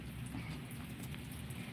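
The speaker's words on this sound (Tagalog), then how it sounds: "Ulan ng ulan dito sa amin" Faint, steady rain patters in the background, a soft continuous hiss with low rumbling underneath.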